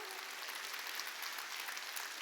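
A church congregation at a Wednesday worship service claps hands, a faint, distant and even wash of clapping with no clear individual claps.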